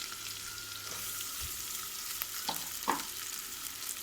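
Rice tipped into a pan and stirred, giving a soft continuous sizzle with a few scattered scrapes and light knocks, quiet and close, no talking.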